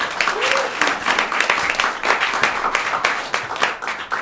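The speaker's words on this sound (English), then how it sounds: "Everyone give our audience volunteer a huge round of applause." A crowd applauds steadily, dense clapping filling the space for several seconds, with faint voices mixed in.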